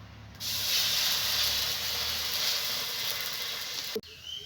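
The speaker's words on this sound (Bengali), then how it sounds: "এবার কড়াইতে আমি একটু জল দিয়ে দেবো" Water poured into a hot wok on a lit stove while making sweet curd at home gives a loud, steady hiss lasting about three and a half seconds, then cutting off abruptly.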